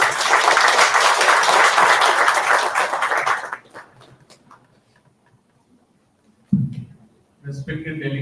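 Audience applause at an industry–institution summit as a professor is welcomed to the stage, a strong burst of clapping for about three seconds that fades to scattered claps, followed by brief sounds and a voice.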